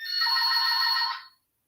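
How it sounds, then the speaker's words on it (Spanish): A telephone rings once with a bright, steady electronic trill, close and clear, cutting off sharply after about a second and leaving silence. "están llamando por teléfono"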